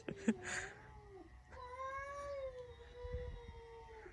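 Two cats in a fight, yowling at each other in long, wavering caterwauls. The cries swell and fall at close range over a quiet rural background, with a brief sharp sound near the start.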